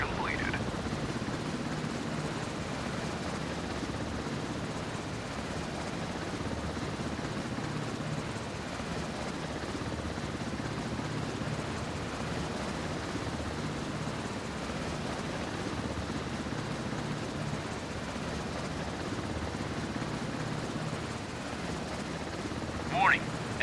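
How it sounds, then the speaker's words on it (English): An enemy helicopter in the naval video game Warship Mobile 2 gives a faint, steady rotor and engine wash that hums evenly throughout, low in level and continuous. "Warning, enemy helicopter detected."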